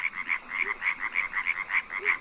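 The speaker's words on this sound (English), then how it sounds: "The European tree frog is a 5 centimeter long amphibian." Male European tree frogs croak in a rapid, regular pulsing chorus, loud and close, with each burst of calls following quickly on the last and no other sound intruding.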